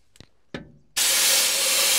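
A blocked suction device is reversed to blow air and rubbish back out. A few light clicks come first, then a sudden loud, steady blast of hissing air that holds to the end.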